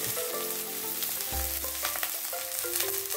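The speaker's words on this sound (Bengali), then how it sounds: "পেঁয়াজটা একদম লাল লাল করে ভেজে নিতে হবে, ব্রাউন কালার করে" Chopped onions frying in a pan until browned, a dense continuous sizzle up close with a brief low thump partway through and faint clinks in the background.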